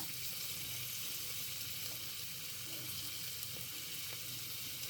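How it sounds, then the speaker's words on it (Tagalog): Garlic sizzles in a hot pan of oil during a chicken adobo cook, a steady, dense frying hiss running unbroken at moderate level with a few faint clicks and no voices. "Tapos ilagay po natin yung bawang"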